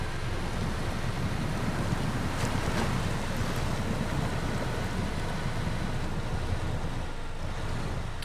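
Off-road truck in SnowRunner pushing through swamp water in low gear with the differential lock engaged, a continuous loud wash of churning water and engine rumble with no talk.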